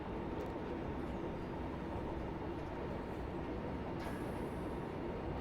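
A German high-speed train in a train simulator game rumbles steadily, a dense continuous roar of running wheels and motor with no voices over it.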